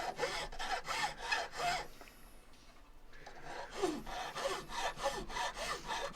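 A hand file strokes a silver pendant held against a bench pin, a close raspy back-and-forth scraping in even repeated strokes, pausing briefly midway before resuming at the same steady pace.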